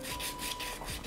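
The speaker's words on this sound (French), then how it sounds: "le ponçage est excessivement relou parce que j'ai pas découpé parfaitement droit" Hand sanding of a cut DIY decor panel: quick, rhythmic back-and-forth rasping strokes, close and steady, with no voices.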